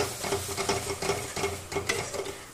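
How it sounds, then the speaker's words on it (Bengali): Chicken roulade filling is stirred in a pan, with a quiet sizzle under repeated close scrapes and shuffles of the utensil at an irregular pace. "তো চলো, তোমাদের সাথে কথা বলতে বলতে আমি এটাকে একটু নেড়ে নিই।"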